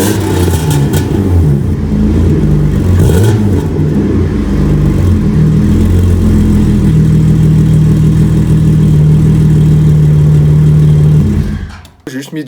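Loud, close engine of a BMW E36 with a full stainless-steel exhaust: a couple of sharp revs early on settle into a steady, throaty idle that runs on until the sound cuts off abruptly near the end.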